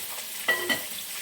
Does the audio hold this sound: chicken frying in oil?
yes